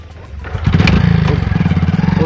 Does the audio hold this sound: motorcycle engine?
yes